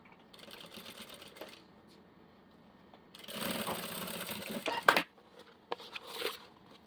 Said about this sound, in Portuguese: Só passar uma costurinha, um pé de máquina aqui.